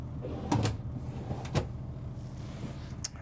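Drawers in the bedroom of a 2024 Renegade Valencia 38RB Super C motorhome slide open and shut, giving a few soft thumps and clacks with light sliding rubs, close by in a quiet room.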